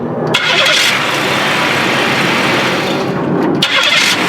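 A 1994 Buick engine cranks and fires up after a starter replacement, then settles into a steady, loud, close idle that runs continuously for several seconds.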